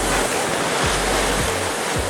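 Heavy two-to-three-metre ocean waves surge around a sailboat in rough seas, a loud continuous roar of churning water and wind with periodic deep thumps as the hull meets the swell.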